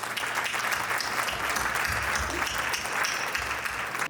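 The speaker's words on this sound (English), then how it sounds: "let's have a big round of applause for our host committee." A gala audience gives the host committee a big round of applause, dense, steady clapping that stays loud and even throughout, with no one speaking over it.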